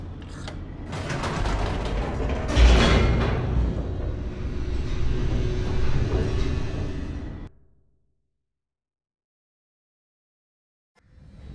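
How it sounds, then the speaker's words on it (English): An elevator racing downward in the video game The Stanley Parable: loud mechanical creaking and grinding gears with a heavy clunk early on, rumbling steadily for several seconds before cutting to silence, then a faint return at the end. "The elevator raced downward"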